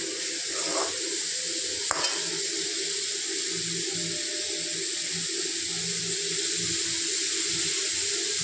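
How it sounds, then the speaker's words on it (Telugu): Onions are stirred and fried in oil for a chana chicken masala gravy, with a continuous soft sizzle and a single sharp scrape of the spoon against the pan. "ఆనియన్స్ లైట్ బ్రౌన్ కలర్ వచ్చే వరకు కలయబెడుతూ ఉండాలి."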